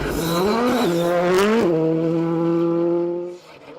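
Rally car on a Cyprus Rally stage, a loud close engine howl with rising and falling revs and a brief harsh scrape at a gear change, then a steady high drone that drops off near the end.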